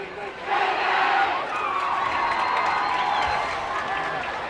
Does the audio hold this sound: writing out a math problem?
no